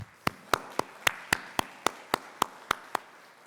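Evenly spaced sharp claps from a single source, about a dozen in steady rhythm, with no crowd build. Heard at a nursing pinning ceremony; faint and isolated rather than full applause.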